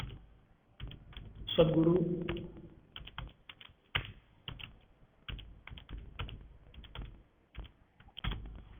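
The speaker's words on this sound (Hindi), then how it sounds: "चलिए हम कुछ टाइप करते हैं यहाँ पे।" Keys clatter on a computer keyboard while typing into Notepad, quick irregular bursts of close clicks with short pauses, as someone talks over them in Hindi.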